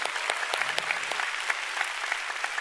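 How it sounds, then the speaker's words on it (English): A church congregation claps along steadily, a dense, fairly close wash of applause running evenly from start to finish with no voices standing out. "Come on, you want to clap, give the Lord a big hand."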